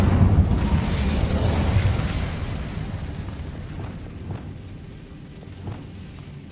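Incendio fire spell cast in the Hogwarts Legacy video game: a loud burst of roaring, crackling flame that rushes out at once and then fades into a softer, scattered rumble with a few small pops.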